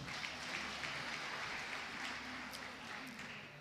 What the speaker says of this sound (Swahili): Pia naomba tuwape makofi ya ajabu.